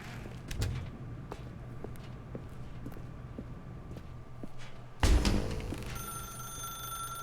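In The Stanley Parable: Ultra Deluxe, a telephone rings out partway through, a sudden bright ringing tone over a quiet ambient backdrop with faint scattered clicks.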